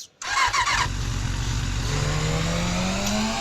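A motorcycle engine in a video game starts with a burst, then revs steadily and loudly, its pitch climbing gradually under a constant drone for the rest of the clip.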